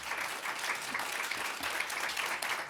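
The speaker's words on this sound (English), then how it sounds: "You may now give the candidates a round of applause." Student audience at a university student union candidate hustings gives a round of applause, a steady, dense clatter of many hands clapping at medium distance, even and unbroken with no talking.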